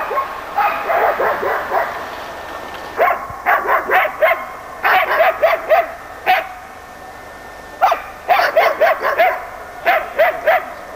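Laika hunting dogs barking at a bear and boar working trial, bursts of rapid, sharp yelping barks repeating in clusters with short pauses, fairly close and loud.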